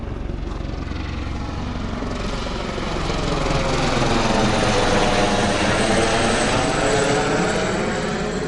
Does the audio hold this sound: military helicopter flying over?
yes